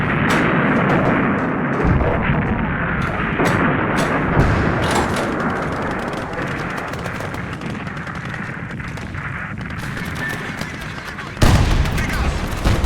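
Artillery bombardment in war documentary footage of a Soviet assault on German defenses: dense, continuous booms, blasts and rapid gunfire crackle, loud and sustained, with a narrator's voice partly over it.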